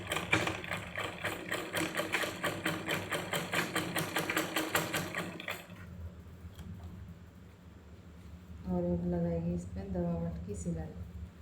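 Sewing machine stitching along a fabric waistband, a rapid steady mechanical clatter for about five seconds that then stops, followed by quieter handling noise and a voice speaking near the end.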